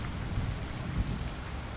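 Steady, dense rain falling with a constant broadband hiss and low rumbling undertone, continuous and fairly close, with no voices.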